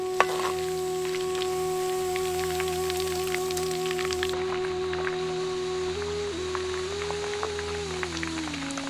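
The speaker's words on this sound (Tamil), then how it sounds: "ஆட்டுக்கறியை எண்ணெயில பொறிக்கும் போது இந்த மாதிரி கொழுப்புகள் தனியா பிரிஞ்சு வரும்" Mutton kola urundai meatballs fry in oil with a continuous crackling sizzle full of fine pops, close and even throughout, over a faint steady background hum.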